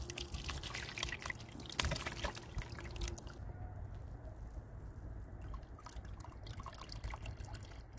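Manure tea pours into a container of coir substrate, a faint, close trickle and dribble of liquid that runs steadily, with a few brief splashes early on.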